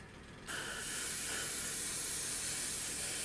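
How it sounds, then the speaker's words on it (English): Tamiya paint hisses from an airbrush onto an Airfix Sabre model. A quiet start gives way to a sudden steady spray that holds close and even to the end, with no talk. "Tamiya paint spray, absolutely fantastic."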